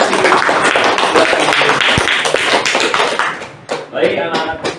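Students in a classroom clap after a group presentation, loud close clapping with scattered taps and thuds and voices mixed in, tapering off near the end.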